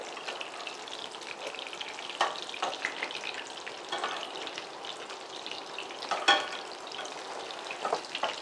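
Sesame-coated prawns frying in a pan give a continuous crackling sizzle with irregular pops and spatters, one louder burst near the end, and no voices.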